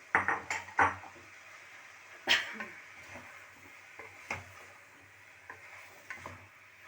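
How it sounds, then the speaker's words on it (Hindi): Broken-wheat porridge (dalia) being stirred in a pot on a gas stove, a spoon scraping and knocking against the metal in a few uneven strokes, louder at first and then softer, close and with no voices. "इसको हम हल्का सा चला देंगे"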